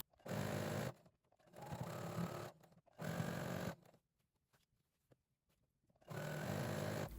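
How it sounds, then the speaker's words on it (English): A sewing machine stitches gathers onto a skirt in four separate runs of steady, fast whirring, each lasting about a second, with quiet pauses between them. "I'm just sewing on all the gathers I just made."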